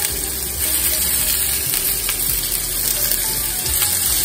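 Meat-stuffed vegetables frying in salad oil in a pan, a steady, close, broadband sizzle that holds evenly throughout with no talking.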